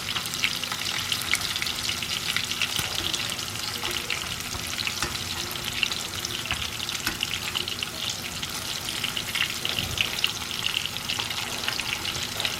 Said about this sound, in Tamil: நம்ம ஷாலோ ஃப்ரை தானே பண்ணுறோம். நல்லா ஃப்ரை ஆகட்டும்,